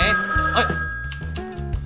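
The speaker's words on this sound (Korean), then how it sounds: "전화가 오네" A telephone rings in a Minecraft-style workplace scene, a steady electronic ring with a bright sustained tone running through the clip beneath a voice speaking over it.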